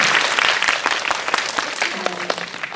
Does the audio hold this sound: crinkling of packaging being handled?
no